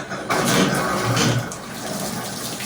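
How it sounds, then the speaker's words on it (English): Shower water rushes steadily from a Delta shower just turned back on after a cartridge change. It is a loud, close, continuous spray with a slight sputter of air in the line. "go ahead and turn the water back on"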